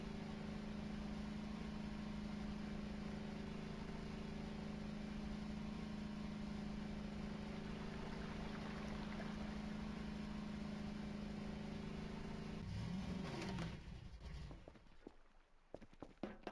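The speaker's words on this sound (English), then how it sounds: "if you can hear the ATV revving its engine" ATV engine in the video game Voices of the Void holds a quiet, steady low drone, then its pitch wavers briefly and the sound drops away.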